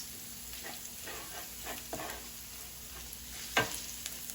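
A spatula stirs cabbage stir fry in a pan on a stove at medium heat, giving soft intermittent scrapes and a brief louder clack over a faint, steady sizzle.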